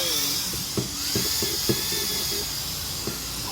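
A repaired electric drill whirs steadily with a high, smooth whine, punctuated by a few short clicks and knocks, running close by without speech.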